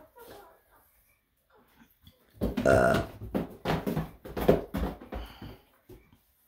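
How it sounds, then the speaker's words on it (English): Goats burping and making odd throaty noises: faint snuffles at first, then a loud, close, drawn-out gurgling belch sequence with several pulsing bursts before fading out. "And yes, my goats burp."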